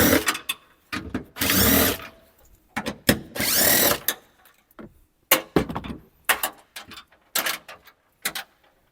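A power tool backs bolts out of a Toyota Prado 250 floor in short bursts of whirring and ratcheting. Louder runs of about a second alternate with quick chattering pulses and brief gaps, close and with no speech.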